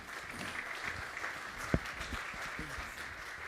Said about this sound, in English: Please, a round of applause to Ruth